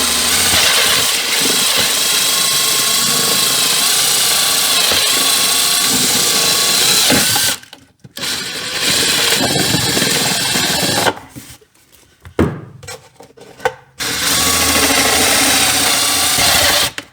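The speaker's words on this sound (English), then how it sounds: "I have a 3/4 inch step bit." A power drill with a 3/4 inch step bit bores two holes for relocating a washer fluid reservoir on a third-generation 4Runner, running loud and steady with a few brief pauses between bursts.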